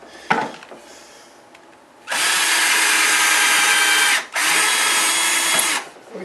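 A power drill bores through a matrix mold in two long, loud, steady bursts with a short pause between them, after some quieter handling noise.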